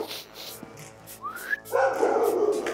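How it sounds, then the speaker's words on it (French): Police brigade dogs in Saint-Étienne bark and yelp close by, a short whistle-like whine rising before a burst of loud barking. "Kaiser, Athos, Enjoy, Voyou ne sont pas vraiment des chiens-chiens à sa mémère"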